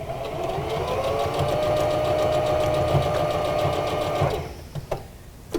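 A sewing machine runs steadily for about four seconds, stitching the overlapping top and bottom edges of a homemade fabric mask with a quarter-inch seam allowance, then stops, leaving a few faint clicks.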